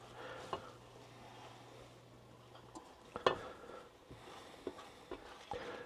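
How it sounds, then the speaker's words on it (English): Four whisked eggs being stirred constantly in a non-stick pan over medium-high heat, quiet scraping and soft tapping of a utensil against the pan over a faint sizzle, with a few sharper clicks. "we're stirring it constantly so it doesn't stick to the pan at all, even though it is a non-stick pan"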